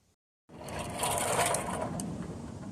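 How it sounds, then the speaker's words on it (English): A drill bores holes for cotter pins in the front end of a small display lowrider wagon, a steady continuous whine that starts abruptly after a brief silence and holds loud and close for a couple of seconds. "We'll get those drilled out, cotter pins put in"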